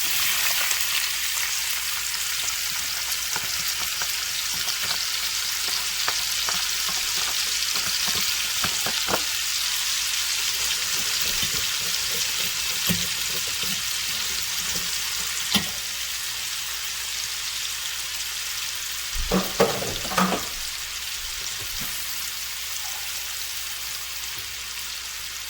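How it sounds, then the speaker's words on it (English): Holy Trinity vegetables (onion, celery, bell pepper) sauteing in a hot pan for shrimp and polenta, a loud continuous sizzle with scattered crackles and a few stirring clanks near the end, no talking. "Saute that up just a few minutes."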